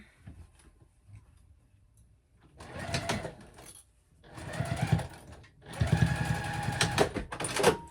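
A sewing machine runs a basting stitch along a clutch pocket seam with a narrow allowance, buzzing in two or three short bursts separated by pauses, close and fairly loud.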